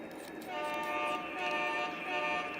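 Lionel Legacy model train sounding after its train link button is pressed, a steady, fairly faint run of layered horn-like tones that hold for nearly the whole stretch with no talk over them.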